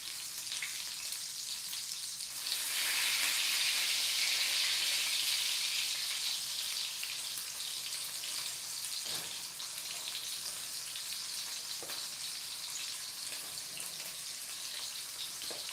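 Tonkatsu pork cutlets fry in hot oil with a dense, steady sizzle and crackle that swells louder for a few seconds before settling into a constant close hiss with no voices.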